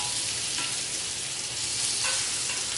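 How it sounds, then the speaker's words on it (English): Bacon fries in a pan, giving off a constant, close, crackling sizzle with small pops, steady and alone without any talk. "Still getting some sizzling goodness going on over here with the bacon."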